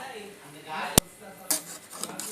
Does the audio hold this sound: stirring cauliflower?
yes